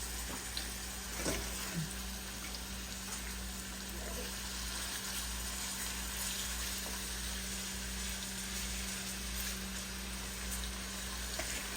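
Chicken pieces frying in a shallow layer of oil, a continuous crackling sizzle at moderate level with a few faint clinks, and no talking.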